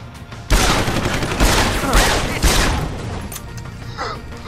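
Rapid bursts of gunfire in the video game Deus Ex: Human Revolution, several loud close shots in quick succession over about two seconds, then fading into echoing tail and distant game sounds.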